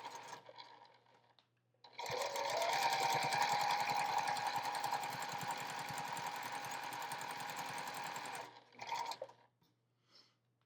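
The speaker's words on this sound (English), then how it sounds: "So I'm going to sew a 1/4 inch seam across here." A sewing machine stitches a quarter-inch quilt seam in one steady, close run of rapid mechanical whirring lasting several seconds, with brief quieter whirs before and after and no talking.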